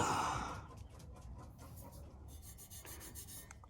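A car wheel caked with overfuelling soot is scrubbed by hand with a brush and kitchen spray, giving quiet close rubbing and rasping strokes in an irregular rhythm after a brief louder spray at the start.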